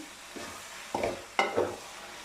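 Carrot halwa being roasted in a pan: a soft low sizzle is broken by three distinct scraping stirs of a spoon against the pan, close and fairly loud, with no speech.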